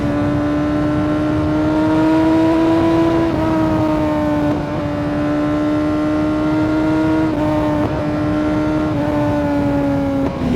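A loud motorcycle engine with an aftermarket exhaust drones steadily, its pitch rising and falling as the throttle is blipped, with a harsh exhaust note throughout and no popping.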